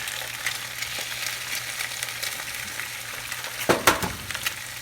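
Four eggs fry in oil in one pan alongside potatoes, giving a steady close sizzle and crackle. A couple of sharper spatters and clinks come near the end.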